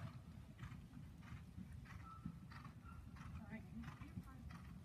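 Hoofbeats from a young horse working in a dressage arena during a lesson, with soft rhythmic clip-clop steps under steady background noise and occasional instructor talk.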